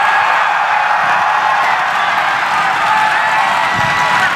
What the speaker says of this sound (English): if you're a Prime fan, cheer right now